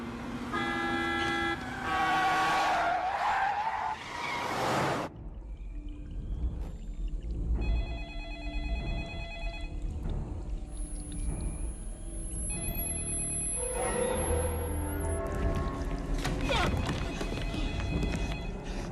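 A telephone rings in repeated electronic bursts, interrupted partway by a sharp cut, with tonal music and background noise around it.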